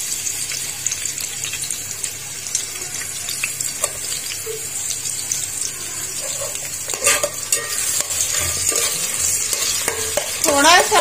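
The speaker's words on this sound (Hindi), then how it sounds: "ऑयल गर्म होने का वेट करेंगे। अब इसके अंदर हम डाल देंगे प्याज।" Onions fry in hot oil for aloo pulao while a spoon stirs them, a steady close sizzle with scraping strokes growing busier toward the end.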